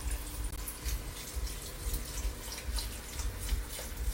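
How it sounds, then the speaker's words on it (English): Chicken broth pours from a bottle into a soup pot on the stove, a steady liquid splash and gurgle running continuously at close range with no talking. "Just gonna gently pour it down in here."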